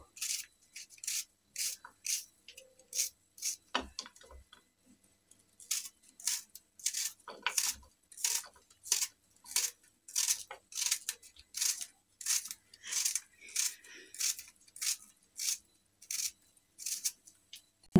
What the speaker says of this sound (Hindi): मैं हाथ की मदद से बारीक बारीक पीस कट करूँगी इसके।